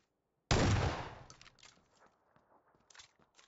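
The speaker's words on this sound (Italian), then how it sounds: "Cos'era sto sparo?" A single sharp gunshot from a video game bursts out after a moment of silence, loud and close, then decays into faint scattered clicks and shuffling.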